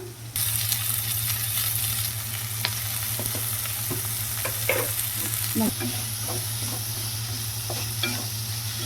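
Ivy gourd and onion with turmeric and salt stir-frying in a pan, a steady close sizzle with repeated scraping and clinking strokes of the spatula throughout, no voices.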